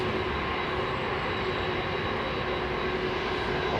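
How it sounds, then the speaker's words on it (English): Aircraft engines at London Heathrow Airport produce a continuous, loud, broad roar with a steady whine, dense and unbroken throughout. "Just the intensity of the aircraft now, isn't it?"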